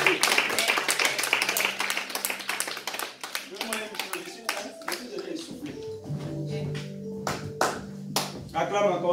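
A church congregation claps at a worship service, with dense, rhythmic hand claps that thin into scattered claps while voices ring out over them.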